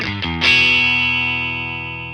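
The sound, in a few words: electric guitar through Marshall amp with reverb on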